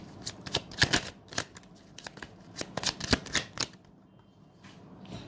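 A deck of tarot cards is shuffled close by in quick riffling bursts that come in clusters, and then the sound trails off into near quiet.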